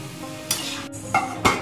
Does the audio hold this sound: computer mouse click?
no